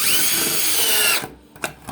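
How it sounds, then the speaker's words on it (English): A power drill drives screws into a wooden cleat in a backyard bunker, a loud steady whir for about a second before cutting off, followed by a couple of short knocks. "Just got to jam a few screws in this cleat."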